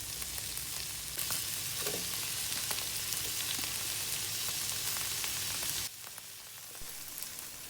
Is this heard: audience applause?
no